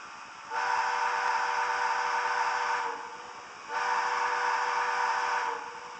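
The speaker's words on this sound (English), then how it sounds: "Also, the horn, the whistle," Steam whistle of an MTH HO-scale Triplex 2-8-8-8-2 model locomotive, two long sustained whistle blasts with a brief gap between, steady and fairly faint, with no talk.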